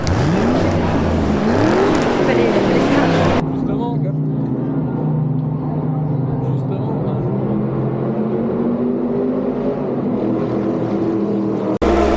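Classic Ford GT40 race car at the Classic Days Le Mans event, its engine droning steadily and loud with a rising rev at the start, heard up close and continuous throughout.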